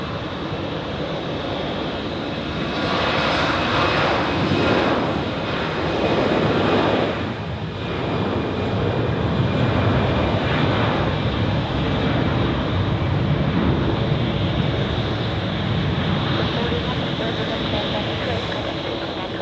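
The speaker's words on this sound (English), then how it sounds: "here we have the Vancouver flight landing on runway 14" An Edelweiss Airbus A340-300 arriving from Vancouver lands on runway 14 at Zurich Airport, a loud, sustained broadband engine roar with swelling and easing waves across the whole stretch.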